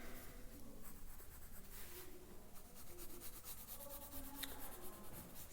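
A pencil sketches quickly on paper, giving close, continuous scratchy strokes with a quick rhythm of short lines, soft and steady with no voices.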